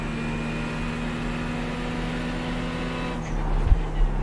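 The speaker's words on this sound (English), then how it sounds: "If you like the sound of this car" A GT3 race car in a racing game at Norway's Rudskogen circuit holds a steady, loud engine drone at constant pitch, with a brief bump and clatter near the end.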